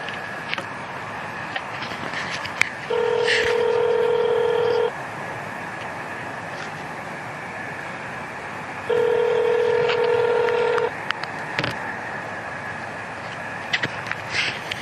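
Telephone dialing tones placing a call to a podcast guest: two bursts of steady electronic ringback tone, each about two seconds long with a pause between, heard clearly over faint background hiss and clicks.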